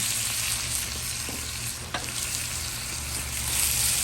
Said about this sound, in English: Next, I'm going to add onion.